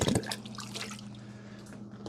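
Nutrient solution poured under a lifted corner of a plastic 1020 seedling tray, a splashy gurgle strongest at the start and then trickling off, close and fairly loud with no talking.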